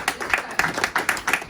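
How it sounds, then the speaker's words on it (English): Audience applause after a speaker's introduction at a real estate team event, heard as a short burst of moderately loud, evenly rhythmic clapping from a small crowd. "Let's give her a round of applause."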